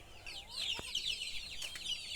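Fayoumi roosters clucking and chattering close by as they drink water, with overlapping high calls and a couple of short sharp squawks against a steady background.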